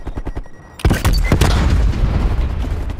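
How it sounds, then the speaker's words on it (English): A stun grenade goes off in Call of Duty Black Ops Cold War at night on Nuketown during Domination, a sudden loud bang after a few light gunshots, followed by a dense ringing rumble. "Stun grenades."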